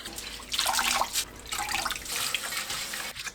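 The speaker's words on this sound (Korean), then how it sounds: "굵은 소금 1큰술 물에 녹여서 톳을 씻어냅니다." Hijiki seaweed is washed by hand in salted water, giving close, irregular splashing and sloshing in bursts with no talking.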